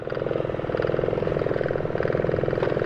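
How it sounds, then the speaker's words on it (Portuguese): A motorcycle engine running in fourth gear at speed on the BR-319 highway in the rainy season, a close, steady pulsing drone with a fine rhythmic chirp running through it. "O motor dando uma grilada."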